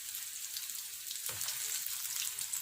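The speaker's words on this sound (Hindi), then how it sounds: "3 मिनट के लिए इस साइड से भी फ्राई कर लेंगे" Potato patties made with cornflour and egg fry in oil in a pan, giving a soft, steady sizzle with a brief low thump partway through as one is turned. The sizzling is fairly faint and no one speaks.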